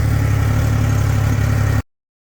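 A Triumph Rocket motorcycle engine runs close and loud with a steady, deep rumble for almost two seconds, then cuts off abruptly into silence.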